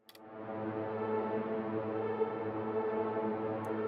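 Acid synth line sent through the Raum reverb in Cosmic mode, swelling into a dense, shimmering ambient wash where the individual notes blur into a sustained, spacious drone at moderate volume, with no voices.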